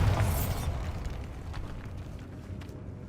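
A Bombarda blasting spell goes off in the Hogwarts Legacy video game, a loud booming blast up front that decays into a low rumbling tail with scattered debris clatter.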